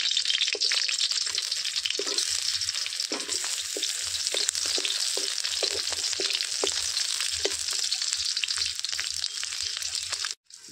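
Onion and chili roast in a pan over a wood-fired village stove with tomato added, giving a steady loud sizzle with scattered small pops and stirring knocks that runs unbroken until it cuts off near the end.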